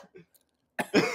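A person gives a couple of faint throat sounds, then a sudden loud, close cough followed by a second harsh cough, with near silence between them.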